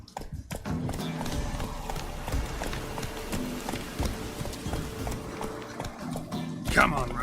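Hoofbeats of Geralt's horse Roach galloping through the Witcher game world, a steady rapid clip-clop rhythm running throughout at close range, mixed with game ambience and a short burst of speech near the end.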